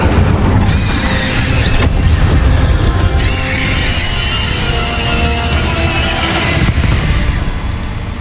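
Incendio fire spell cast in Hogwarts Legacy, a loud continuous roaring whoosh of flame with booming bursts and crackling high hiss layered over game music, sustained across the whole stretch.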